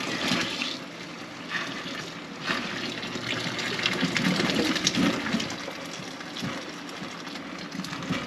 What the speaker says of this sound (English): We pour them out in the sink